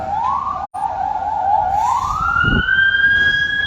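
A wailing emergency siren rises and holds steady, loud and close, with a brief dropout early on and a low rumble of traffic beneath it, near a collapsed building's rubble.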